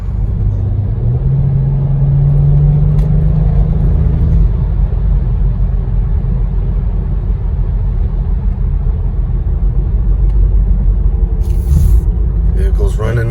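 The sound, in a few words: BMW car driving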